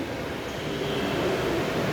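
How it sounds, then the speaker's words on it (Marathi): A train pulls into Ratnagiri railway station on the Konkan Railway, a steady low rumble and rolling drone heard up close, with no talk. "हे बघा आताच ट्रेन आता रत्नागिरीला आली आहे."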